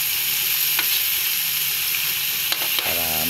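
Carrots and beans fry in a hot pan with a loud steady sizzle close up, broken by a few sharp scrapes of stirring and a brief clatter near the end.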